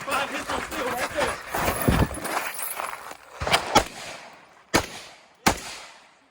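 Gunshots on a shooting course striking steel targets: a run of sharp cracks mixed with talk and movement, then two isolated loud reports spaced about a second apart near the end.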